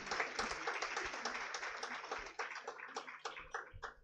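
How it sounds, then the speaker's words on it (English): An audience at an international conference claps steadily for several seconds, a dense patter of many hands that thins slightly toward the end. "A huge round of applause, ladies and gentlemen."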